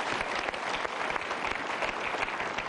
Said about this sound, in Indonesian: Kita berikan dulu tepuk tangan untuk mereka.